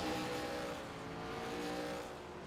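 An ARCA race car pulls out of pit road at Langley, its engine a steady, loud drone with a harmonic whine that holds throughout, with no voices.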